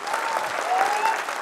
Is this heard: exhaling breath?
no